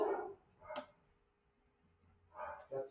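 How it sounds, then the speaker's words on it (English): Faint dogs bark in the distance, a few short yaps in two brief clusters separated by quiet. "Do you hear the dogs?"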